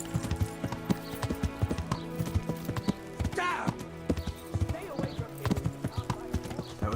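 Rapid, rhythmic hoofbeats of a galloping horse in Kingdom Come: Deliverance, close and continuous, with a brief whinny partway through and a humming backdrop.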